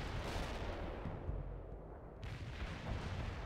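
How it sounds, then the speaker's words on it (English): Infantry covering fire in the World in Conflict video game, a dense continuous rumble of distant gunfire and artillery-like thuds rolling steadily throughout, with no voices. "Covering fire. Infantry fire."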